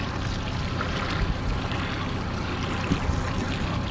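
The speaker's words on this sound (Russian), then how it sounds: "Сейчас я приобрел себе четырехтактный двигатель Honda 30-ка." A Honda four-stroke 30 hp outboard on a trolling boat runs at a steady, loud drone, mixed with the rushing wash of water against the hull and no talk.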